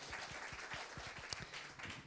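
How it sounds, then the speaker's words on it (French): An audience applauds at an e-health programme conference, with steady, fairly dense clapping from many hands heard from a moderate distance for about two seconds. "On peut l'applaudir, le Dr Sharma."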